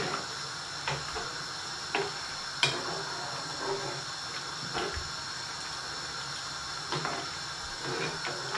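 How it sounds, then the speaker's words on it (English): Seasoned rice is stirred in a pot, with soft scraping and occasional light clicks of the spoon against the rim over a steady low sizzle, close and fairly quiet. "I'm just going to give it a mix."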